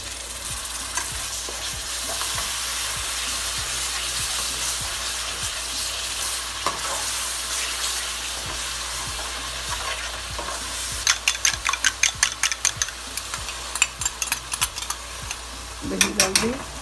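Tomatoes fry in masala for a kofta curry, a steady loud sizzle throughout, joined later by rapid rhythmic scraping and clacking of a spoon stirring against the pan.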